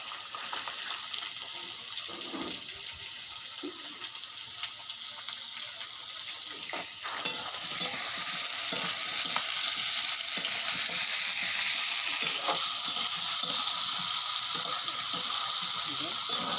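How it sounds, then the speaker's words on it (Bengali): Potatoes frying in a pan, a continuous crackling sizzle with occasional scraping stir strokes, getting a little louder midway while someone talks over the cooking. "লাল লাল করে আলুগুলো একটু ভেজে নেবো।"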